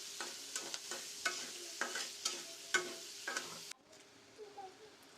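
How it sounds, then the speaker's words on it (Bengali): Chopped onion fries in a pan with bay leaf, cardamom and cinnamon, giving a soft sizzle broken by regular clinks of a stirring spoon every half second, then the stirring stops and only a faint sizzle remains. "পেঁয়াজ কুচি দিয়ে ভালো করে ভেজে নিব পেঁয়াজ কুচিটা"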